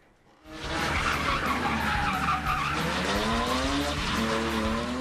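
A drift car skids hard with loud, sustained tire squeal and a roaring engine, the screech rising and bending in pitch as it slides continuously close by.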